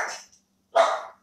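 Dogs barking indoors, two loud separate barks with a short pause between them, close and clear with no talk over them.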